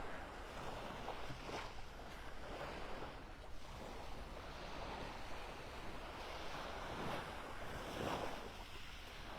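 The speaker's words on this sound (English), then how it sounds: "I wanted you to see and hear the water." Steady wash of surf rolling onto a beach in North Naples, Florida, with broad swells of noise and some wind rumble against the microphone throughout.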